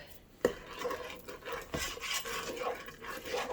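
Hot sugar mixture for a chocolate cake stirred in a pot, a close, continuous rasping scrape of the utensil against the pot with a sharper knock near the start, moderately quiet.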